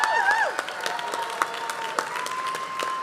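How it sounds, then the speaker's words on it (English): An audience at a medical school convocation ceremony claps and cheers, steady applause with a few whoops and whistles filling the hall. "I said cheering's allowed and encouraged."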